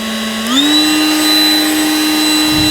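A Worx 20V cordless leaf blower already whirring switches to high speed, ramping up to a higher, louder pitch and holding a steady, intense whine with rushing air.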